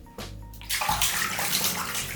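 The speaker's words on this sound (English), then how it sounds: "This is the first time he's actually like splashed like this in the bath." A baby splashes water in a bath, a steady broadband wash of sloshing and splashing that begins with a loud burst and continues up close with no talking.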